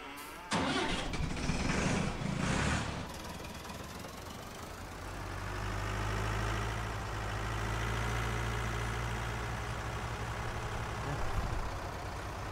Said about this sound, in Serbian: a meni treba ovaj traktor vamo